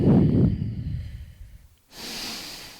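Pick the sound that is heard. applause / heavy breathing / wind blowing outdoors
heavy breathing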